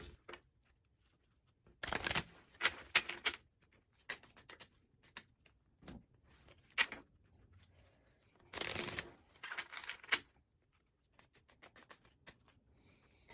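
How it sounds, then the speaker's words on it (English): Tarot cards shuffled by hand in quiet bursts of riffling and soft patter, with two louder flurries separated by gentle sliding and tapping. "I'm going to shuffle these up."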